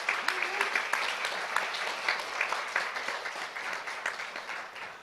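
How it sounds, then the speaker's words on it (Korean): At a forum in Jeju, a conference audience applauds the Maryland governor, a sustained, fairly dense round of clapping with individual claps poking through, steady throughout and softening slightly near the end; faint voices may sit underneath. "큰 박수 부탁드리겠습니다"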